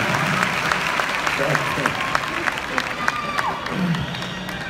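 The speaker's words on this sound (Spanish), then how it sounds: "Fuerte el aplauso para él." A concert audience claps and applauds steadily for a keyboard player, a dense wash of hand claps with some voices and shouts mixed in from the crowd.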